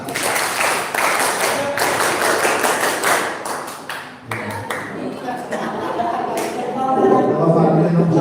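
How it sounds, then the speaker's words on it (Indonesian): Group clapping in a scout-style tepuk pramuka pattern at an entrepreneurship training session, brisk patterned claps from many people for several seconds, then scattered claps, chuckles and voices toward the end. "Coba saya sekarang mau coba dengan tepuk yang tepuk pramuka."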